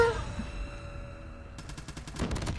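Rapid automatic gunfire from an enemy weapon in Call of Duty Mobile rattles in quick bursts during the last second, sharp and close after a quieter stretch of game ambience.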